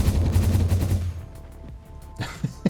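A hypertube cannon launches a player in a video game, a dense loud rushing blast that fades into lighter clatter and a few sharp knocks.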